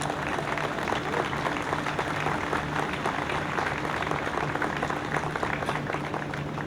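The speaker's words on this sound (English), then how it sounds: "Please give all these people a warm round of applause." An outdoor ribbon-cutting crowd at a plaza applauds warmly, a dense, even wash of clapping that stays steady and moderately loud throughout.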